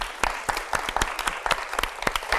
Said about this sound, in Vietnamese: Mong các bạn hãy cổ vũ cho các bạn ấy một tràng pháo tay thật